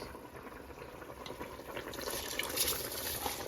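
Water comes to a steady rolling boil in a pot while Uzbek plov is being cooked, a continuous bubbling hiss that swells a little louder toward the end, with no talking.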